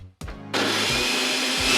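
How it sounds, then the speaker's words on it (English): A blender motor whirs to life after a brief click and short pause, a steady loud high-pitched roar that holds evenly to the end, with no talking. "I've even got a remote for my blender."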